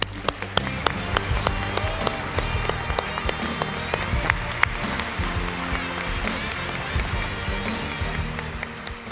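At a 2016 YMCA Hall of Fame induction ceremony, the audience applauds an inductee. Sharp, scattered claps ring out over a low, tonal background, with a moderately loud crowd throughout.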